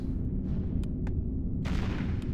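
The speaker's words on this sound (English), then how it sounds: "he's built a cannon tower back here and is knocking out the undead" A cannon tower in Warcraft III pounds an undead gold mine, a few sharp booming impacts ringing out over a steady low rumble of battle noise, with a bigger burst of blasts near the end.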